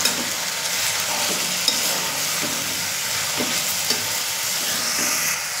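Brinjal pieces sauté in hot oil for a Maharashtrian clam curry, giving a steady, close sizzle with faint scraping stirs now and then.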